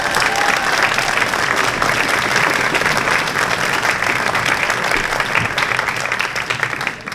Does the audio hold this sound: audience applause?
yes